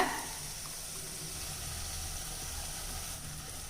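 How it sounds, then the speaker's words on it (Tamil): Water is poured into a cooking pan holding a chicken masala mixture with ground small onions, giving a steady, even hiss that runs throughout with no voices. "இதில் கொஞ்சமாக தண்ணி விட்டுக்கலாங்க"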